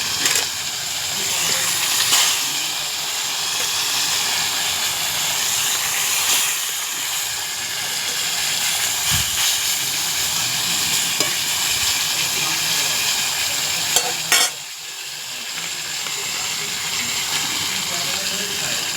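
Fish frying in a wok of hot oil over a clay stove on a rooftop, giving a steady broadband hiss and sizzle throughout with a few brief clatters and a sharper burst near the end, no speech over it.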